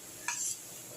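Soaked red lentils being stir-fried in a pan give one short, quiet sizzling scrape of stirring, heard close and alone.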